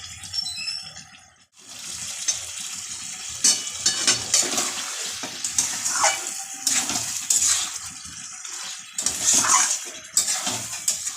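Spice-laden marinade water from chicken poured into a pan of chicken curry, a steady splash with metal clatter from the pan, close and continuous for several seconds, with no talk.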